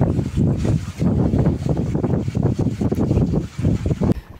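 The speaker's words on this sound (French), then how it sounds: "Ah, c'est le vent" Steady, loud wind on a sailboat at sea buffets the microphone with a low, rumbling roar that gusts and pulses without letting up.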